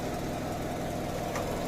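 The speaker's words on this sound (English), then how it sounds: "increase the steps one by one and see the RPM speed of the motor is increasing" A DC shunt motor under load test runs steadily with a continuous close mechanical hum and whine over a short stretch, and no speech is heard.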